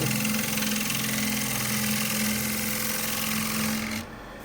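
A wood lathe hums steadily while an Irish grind gouge faces end grain, a constant droning whir with a low tonal hum that drops off near the end.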